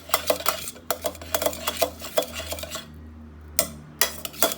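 Utensil scraping and clinking against a pot while mashed toor dal and spinach for Andhra-style palak pappu are stirred, a steady run of close metallic taps and scrapes with brief pauses, no talking.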